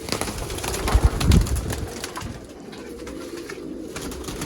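Soft cooing and rustling of Sialkoti flying pigeons close by, with a burst of low fluttering or wing flaps near the start, then quieter background murmur.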